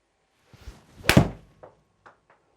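A golf club strikes a ball in a single solid, close impact, with a few faint taps and shuffles before and after.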